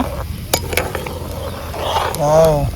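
Spoon stirring cornflour slurry into a pot of village-style chicken vegetable soup, with soft scraping strokes, faint sizzling, and a few clinks against the vessel, ending in a brief louder swirl; a voice briefly speaks.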